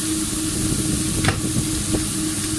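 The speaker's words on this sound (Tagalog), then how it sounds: "habang niluluto ko yung mushroom, I put 1 to 2 tablespoons ng butter" Mushrooms cooking in butter in a pan for chicken lasagna make a soft, even sizzle close by, with a few faint stirring scrapes and no speech.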